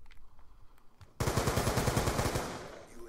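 Rapid automatic gunfire from a weapon in the video game Black Ops 2, bursting in loud and close after a second of quieter game ambience, then sustained in a dense stream of shots.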